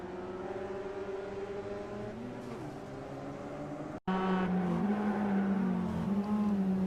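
Several Mazda MX-5 Cup race cars in the iRacing simulator at Summit Point Raceway drone together, their engines holding steady tones and then shifting pitch after a brief cut, loud and continuous with no talk.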